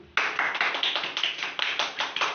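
A classroom of people claps together in brisk, slightly uneven applause, loud and close, lasting a couple of seconds with no talking over it.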